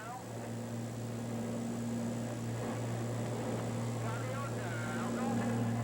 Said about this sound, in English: This is as the aircraft is landing.